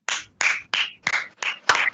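A short burst of clapping over a video call, six distinct close claps in an uneven rhythm with silence between them.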